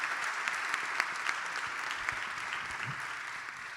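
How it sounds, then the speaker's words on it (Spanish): Steady applause from an audience at a talk on vaccination and youth, an even wash of many hands clapping at moderate distance, sustained throughout with no talk over it. "Creo que merece un aplauso."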